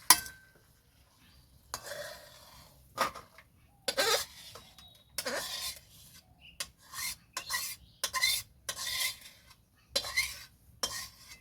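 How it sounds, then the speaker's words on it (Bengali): Chili chicken being stirred in a pan, a utensil scraping and clinking against the metal in short, irregular bursts with quiet pauses between, close and fairly loud with no talking. "ভালো করে মিক্স করে নেব।"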